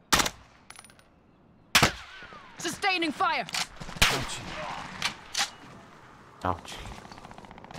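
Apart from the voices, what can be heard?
gunfire in video game Call of Duty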